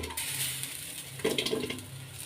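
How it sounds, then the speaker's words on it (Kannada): Water swirled in a mixer jar is poured into ground masala, making a soft splashing pour about midway after quiet kitchen background, then a faint trickle. "ಮಿಕ್ಸಿ ಜಾರ್ಗೆ ನೀರು ಹಾಕ್ಕೊಂಡು ಇದಕ್ಕೆ ಸೇರಿಸ್ಕೊಳ್ಳೋಣ"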